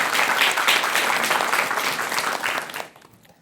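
An audience applauds at a Buddhist lecture on making the world beautiful through film, a dense burst of clapping that stays strong, then fades out abruptly near the end.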